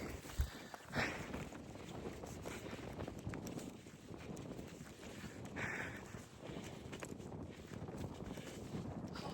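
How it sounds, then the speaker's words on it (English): Strong wind buffeting the microphone in gusts on the summit of Big Bald, a mountain on the Appalachian Trail, a constant roaring rush with occasional louder thumps, no other sounds clearly standing out. "Ooh, it's windy up here."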